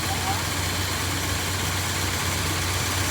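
A 1962 Dodge D200 pickup engine runs steadily close by, a continuous low rumble with a constant idle-like drone and no clear rise in pitch, with no talk over it.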